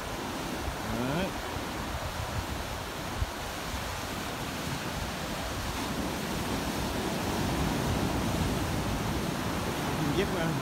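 Steady roar of surf at a crowded, clean surf spot, with continuous broadband wash and wind noise on the microphone, moderately loud and unbroken throughout, with no distinct single wave crash.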